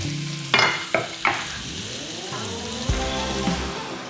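Two sandhill crane breasts dropped into butter in a cast iron skillet: a few sharp hits as the meat lands, then a steady, close sizzle with occasional crackles, no talk.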